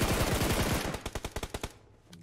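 Rapid automatic gunfire in the battle-royale game BGMI, a loud close burst of closely spaced shots that thins into separate evenly timed rounds before cutting off.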